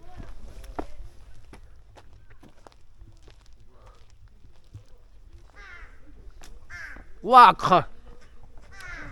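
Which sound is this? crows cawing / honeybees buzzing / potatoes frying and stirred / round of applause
crows cawing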